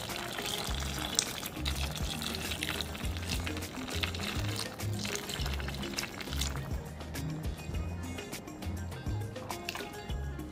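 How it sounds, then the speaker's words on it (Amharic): Water is poured into a cooking pot of Ethiopian red stew (key wat) with potatoes, giving a steady, fairly loud liquid pouring and splashing under low rumbling throughout. "ስለዚህ ውሃችንን እንከልሳለን።"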